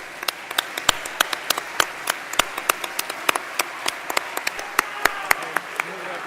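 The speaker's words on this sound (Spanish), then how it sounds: "Vamos a recibirla con un fuerte aplauso." Sparse, distinct hand claps from a university lecture audience welcoming a speaker, individual claps ringing out irregularly over a quiet background.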